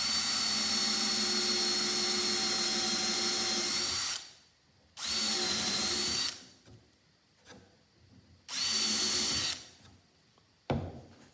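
Power drill driving a screw into the wooden tiller of a Haven 12 1/2 boat, whirring in three sustained runs of a few seconds each, with short pauses and small handling noises between them, close and steady.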